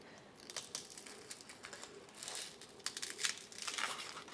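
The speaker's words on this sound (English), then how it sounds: "once this is crispy like it is now, I peel it away" Dry, crispy sheath being peeled off a Philodendron El Choco Red stem, giving a close, irregular crackling and crinkling that builds in loudness toward the end, with no talk.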